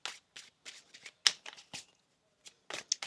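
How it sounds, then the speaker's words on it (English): Tarot cards being shuffled by hand, a series of short crisp riffling bursts in an uneven rhythm with brief pauses between them, close and clear with no talking. "One more shuffle here."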